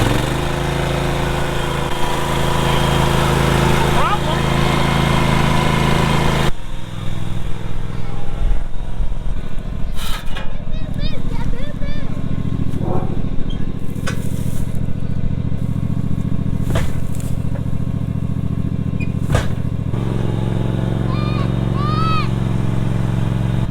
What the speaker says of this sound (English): I don't know why she's always complaining about the mower being hard to start.